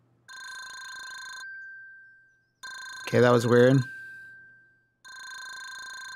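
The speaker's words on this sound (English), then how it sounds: "Oh my God, is it not my cell phone that's ringing?" A phone in the Together BnB game rings in steady electronic trills, three ring cycles separated by pauses, and a voice speaks briefly over the second ring.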